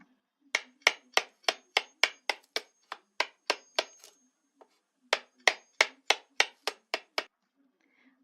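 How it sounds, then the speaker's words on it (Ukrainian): A hammer knocks on wood in two quick runs of sharp, evenly spaced blows, close and clear, with a short pause between the bursts. "Ну, звісно ж, ви впізнали звук молотка по дереву."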